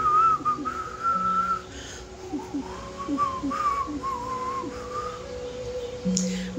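A person whistles a slow, wavering melody against a steady background hum, with a few soft knocks and clicks.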